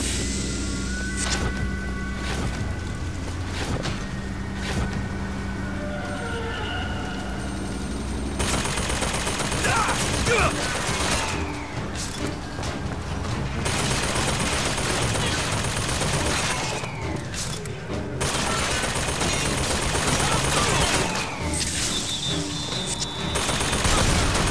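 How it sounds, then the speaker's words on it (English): Gunfire from the video game Bioshock Infinite crackles in repeated bursts and rapid volleys throughout, loud and dense, with sustained stretches of shooting broken by short gaps. "Still shooting at me?"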